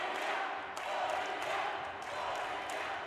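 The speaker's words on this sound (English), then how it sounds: "listen to the crowd" A crowd at a pro racquetball singles final in Bolivia keeps up a continuous roar of cheering and chanting, loud and sustained, while a commentator talks over it.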